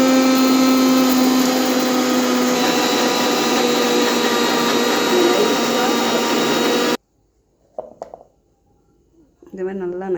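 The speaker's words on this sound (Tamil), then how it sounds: "மிக்சியில் போட்டு அரைக்க போகிறேங்க." A mixer grinder whirs loudly and steadily for about seven seconds while grinding curry leaves in a jar, then stops abruptly; a few faint clinks and a short voice follow.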